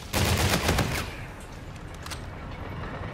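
Rapid gunfire in a shooter video game, aimed at UAVs overhead, rattles out as a dense burst of shots that fades into lighter scattered pops, loud and close with no talking.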